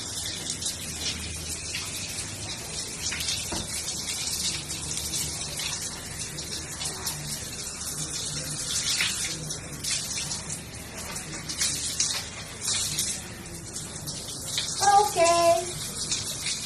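Water from a tap or shower runs steadily while shampoo is rinsed from hair, a close continuous splashing gush with small shifts in flow and a few brief tonal sounds near the end.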